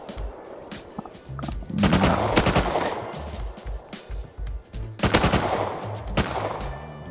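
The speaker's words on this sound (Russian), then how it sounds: "Со скалы он стреляет." Bursts of gunfire come from a rock in the survival game Rust, with rapid automatic volleys loud and close, broken by short pauses.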